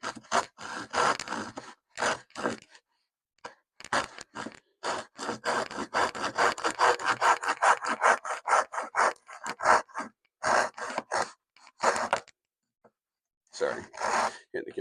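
A folding hand saw cuts aggressively through a wooden board in a fast run of rhythmic rasping strokes, close and fairly loud, with short bursts of talk before and after the sawing.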